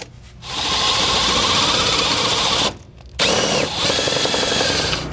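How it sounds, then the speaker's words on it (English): A power drill bores a hole through a 2013 Tiffin motorhome truck frame for a SumoSprings Maxim helper spring bolt. It gives a loud, steady whine up close, with one brief pause before it resumes. "Then we're going to drill out this hole and insert a bolt in it just like we did over here."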